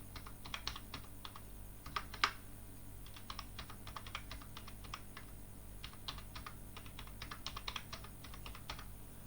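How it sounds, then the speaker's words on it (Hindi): Digits are tapped out on a computer keyboard in quick, uneven runs of close, soft keystrokes over a faint steady hum, with no voices. "सबसे पहले यहाँ पे कुछ भी डिजिट्स टाइप कर लेना है आपको"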